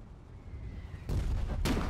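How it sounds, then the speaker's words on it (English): Artillery fire in the game Foxhole: two heavy broadband booms arrive about half a second apart in the second half, after a stretch of low rumbling battlefield ambience. "that artillery's not helping either"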